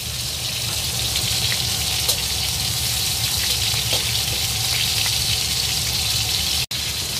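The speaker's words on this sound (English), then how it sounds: "I need to fry a little bit more" Breakfast sausage patties frying in a pan give a steady, dense sizzle that holds close and unbroken throughout, with no talking.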